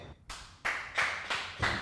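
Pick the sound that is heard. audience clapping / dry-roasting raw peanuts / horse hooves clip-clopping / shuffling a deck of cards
audience clapping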